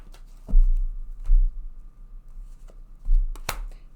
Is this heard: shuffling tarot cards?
yes